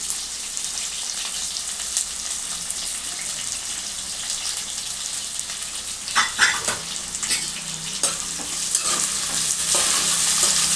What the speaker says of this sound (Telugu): ఇప్పుడు కరివేపాకును పచ్చిమిర్చి కూడా వేసేసుకున్నాం.